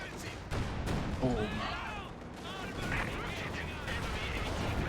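Stuka rocket volley in the video game Company of Heroes 2, a series of loud explosive bursts and impacts amid battle noise, with a commentator talking over it.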